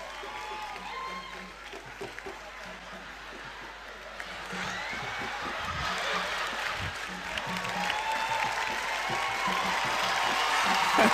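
Audience applause after a stage drama performance of Ije - The Quest, a broad steady wash of clapping that swells and grows louder toward the end, with some crowd noise mixed in.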